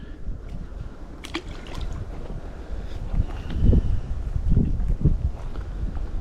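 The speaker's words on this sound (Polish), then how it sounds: "Kurczę, ale wieje." Wind gusting across a lake during fishing, low rumbling buffets against the microphone that swell louder in the second half, with a few faint knocks.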